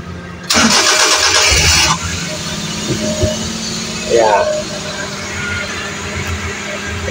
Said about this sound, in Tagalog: So try natin paandarin ang makina